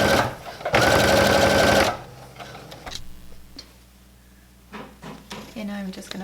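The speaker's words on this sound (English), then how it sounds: "I'm just going to sew from the front" A sewing machine stitches apron fabric in one loud, steady run of about a second, followed by quieter handling noises and brief clicks, with no talking.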